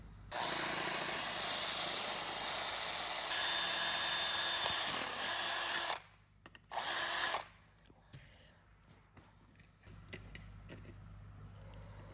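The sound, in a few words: power drill drilling holes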